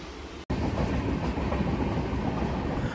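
The Kanchankanya Express passenger train runs on the rails between Siliguri and Alipurduar, heard from inside the coach as a steady loud rumble with rhythmic clickety-clack of the wheels, after a brief dropout at the start.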